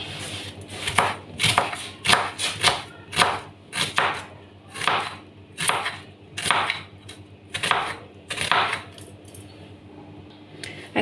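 A knife repeatedly chops mackerel into slices on a board, giving a steady series of sharp, close knocks roughly every half second, with no one talking.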